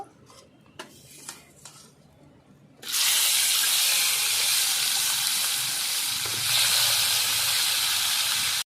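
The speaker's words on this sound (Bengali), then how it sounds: "এবার আবার দু পিস ভেজে নেব" Tilapia pieces dropped into hot oil start a loud, steady frying hiss and sizzle that runs on without pause, after a few light clinks of utensils against the pan.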